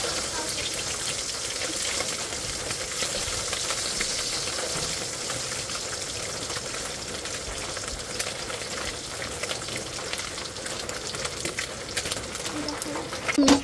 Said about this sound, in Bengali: মাছ ভেজে দিই